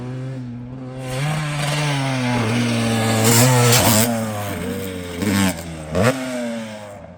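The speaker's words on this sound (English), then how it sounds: "It's a great track to practice your jumping and timing skills if you're getting into motocross or arena cross or supercross" Motocross dirt bikes on a straight practice rhythm track with doubles, triples and tabletops at Durhamtown, heard as a sustained buzzing engine drone that rises and falls with revving and throttle blips, fairly close and loud, no talk.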